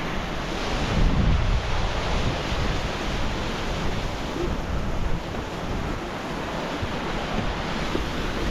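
A waterfall on a walk up Helvellyn, fed by small tributaries joining it, gives a steady, close broadband rush of falling water that never lets up, with wind buffeting the microphone and no voices.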